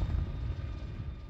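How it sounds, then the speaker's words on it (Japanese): A helicopter in the video game Resident Evil 6 flies with a steady, low rotor and engine rumble that fills the whole clip, with no talk. "こんなスケスケなヘリコプターで、果たして中国に、アメリカまで戻れるんですか？"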